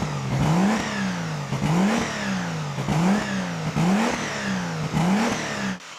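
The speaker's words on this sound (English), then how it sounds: "I'll do the first start for you with a few revs, first with the baffle in" A turbocharged car engine revs repeatedly, rising and falling in pitch about five times in a steady rhythm, loud and close with a whirring turbo whine.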